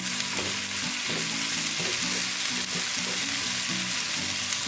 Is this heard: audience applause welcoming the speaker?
no